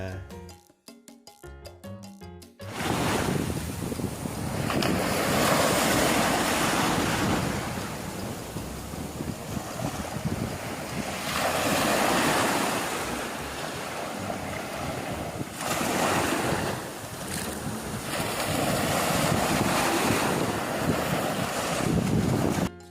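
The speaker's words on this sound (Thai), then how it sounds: "ทุกก้าวบนหาดทราย จะถูกกลบในพริบตาเมื่อน้ำทะเลซัดคลื่นเข้ามา" Sea waves rush in and wash onto a sandy island beach at Koh Rok, Thailand, in broad surges, with heavy wind buffeting the microphone throughout.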